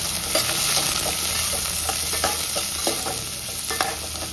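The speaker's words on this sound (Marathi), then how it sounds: "घालता कांदो, बरें तळशिता।" Onions frying in oil in a pan for a Goan chicken xacuti, a steady soft sizzle with light stirring scrapes and occasional clicks, fairly quiet and close, with no voices.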